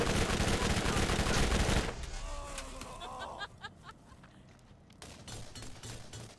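Bursts of gunfire from the video game Borderlands: a dense, loud volley of shots at the start, then scattered single reports further off, with background game noise.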